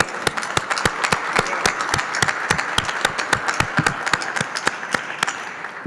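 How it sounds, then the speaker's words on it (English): A small press-conference audience in Cleveland applauds with distinct, fairly regular claps, a thin, sparse rhythm of individual hand strikes that carries on for six seconds without talk. "That deserves a round of applause, I believe."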